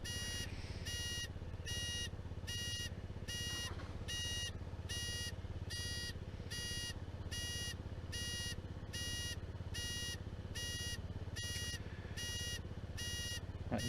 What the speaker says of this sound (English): That noise you can hear is the audible indicators.